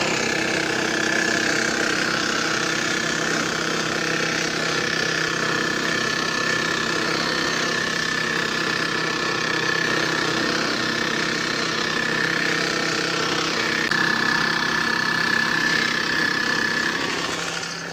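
A tractor engine runs steadily in a farm field during fertilizer work, a loud, continuous mechanical drone with a faint tonal whine that holds for the whole stretch without pause.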